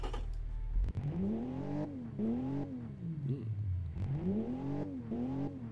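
A car engine revs repeatedly in the game Automation: The Car Company Tycoon Game, pitch climbing and falling in several sweeping bursts, loud and close with no talking.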